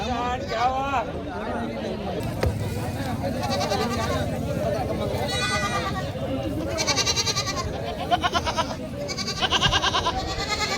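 Goats bleat repeatedly in a busy crowd at a goat market in Parbhani, India, their calls rising over a steady background of voices and market chatter.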